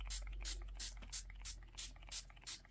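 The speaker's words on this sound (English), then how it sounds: "Just spraying it just a tiny bit." Spray can misting paint onto a journal page in short, quiet bursts, about eight evenly spaced hissing puffs in under three seconds, close up with no talk.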